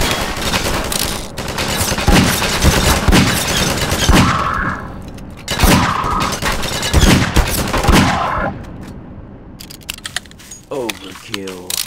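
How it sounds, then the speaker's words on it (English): Video game gunfire from Garry's Mod, with loud bursts of rapid automatic shots and sharp single cracks in clusters separated by brief pauses, some ringing tails, and players talking over the action. "I heard gunshots."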